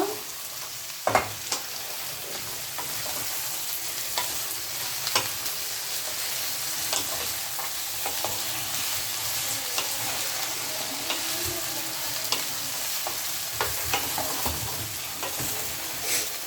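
Vegetables including pointed gourd stirred as they fry in a pan, a continuous close sizzle broken by repeated scraping and clinking strokes of the spatula at an uneven rhythm.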